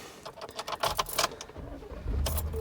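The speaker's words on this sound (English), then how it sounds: "Let me start the truck." A pickup truck is started up close from inside the cab, with keys jangling and rattling, then the engine cranks and catches into a low rumble. No one speaks.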